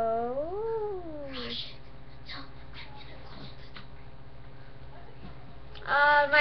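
A cat lets out a long, wavering caterwaul-like meow up close at the start, followed by quiet shuffling and a second sharp cry near the end over a faint steady hum.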